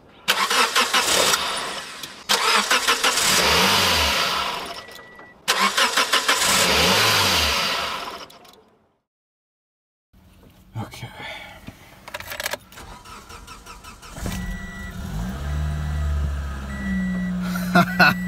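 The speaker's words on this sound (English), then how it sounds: "Let's just see the car start." A Toyota Corolla XRS engine cranks and catches, then settles into a steady running idle with some revving, following clanking work noises and a silent pause.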